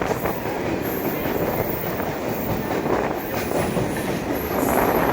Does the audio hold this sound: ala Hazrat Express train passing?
yes